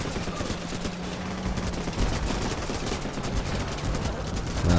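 Sustained rifle gunfire from the video game Running with Rifles, a dense, continuous fusillade of overlapping shots with a steady rattle throughout.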